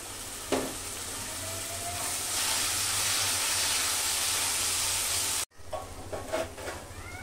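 Spices with ground cumin paste, turmeric and chili powder sautéing in a pan, a steady loud sizzling hiss with stirring scrapes, close up; the sound cuts off sharply near the end, then quieter clatter follows.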